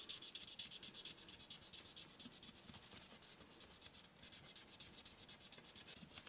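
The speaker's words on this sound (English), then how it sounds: "So I'm going to chase back some of this overspray with my sandpaper" Steady back-and-forth rubbing of sandpaper cutting overspray off teal and blue paint on a custom glossy patina hot rod body, close, even and continuous with a rhythmic scratching texture.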